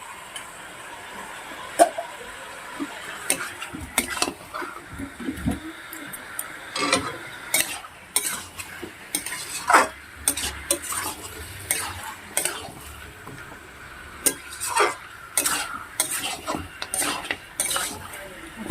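Pre-fried potatoes and chicken are stir-fried together in a pan, with a spatula clinking and scraping in irregular bursts over a soft, continuous sizzle; close by, with no voices.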